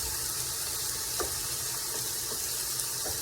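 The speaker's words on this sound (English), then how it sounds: "you flip them over so that both sides are cooking" Empanadas frying in a pan after being flipped so both sides cook, giving a steady, close, even sizzle with a few soft faint clicks over the top and no talking.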